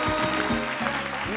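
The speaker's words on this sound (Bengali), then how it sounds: "জোরে হাততালি।" Applause from a studio audience at a Bengali televised family quiz show, a steady wash of clapping filling the whole moment, with a sustained musical tone and faint voices beneath it.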